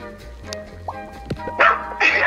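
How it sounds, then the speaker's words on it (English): Dog barking outside during a Bloxburg roleplay game, a few short yips near the start followed by louder bursts toward the end, with a person talking over it. "Is there a dog outside?"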